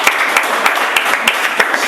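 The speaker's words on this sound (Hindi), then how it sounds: "ताली बजनी चाहिए थी यार।" Scattered audience clapping at a Hindi poetry recitation, a thin run of separate hand claps at an uneven, fairly quick rhythm over a steady room hiss, with no voice over it.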